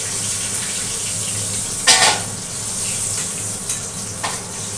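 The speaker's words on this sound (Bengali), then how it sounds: "এবার একটু কালো জিরে ফোড়ন করে দিচ্ছি" Hot oil sizzles steadily in a kitchen pan as nigella seeds are tempered after fried potatoes are lifted out, with a sharp crackling burst partway through and smaller pops after.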